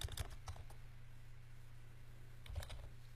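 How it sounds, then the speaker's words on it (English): Typing on a computer keyboard while setting up ad targeting, a quiet burst of clicking keystrokes at the start and another short cluster near the end, close and faint over a steady low hum, with no talking. "I always usually start by typing the broad interest."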